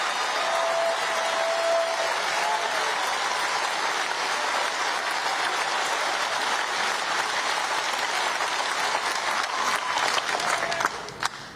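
Sustained applause from a large crowd at a Fight the Oligarchy political rally in Portland, Maine, steady and dense throughout before tapering at the very end, with no speech over it.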